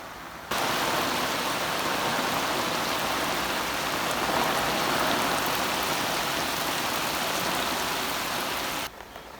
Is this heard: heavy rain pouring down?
yes